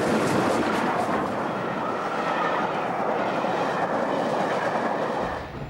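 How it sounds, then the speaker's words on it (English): The Flying Scotsman steam train runs on rails, giving a loud, continuous rumble with a clickety-clack wheel rhythm that fades slightly at the end. "Well, I think it's great to be able to travel on a train like this, the Flying Scotsman."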